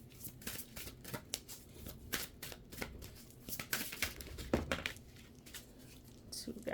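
A deck of tarot cards shuffled close by, giving rapid papery riffles and flicks in uneven bursts, with a voice faintly present underneath.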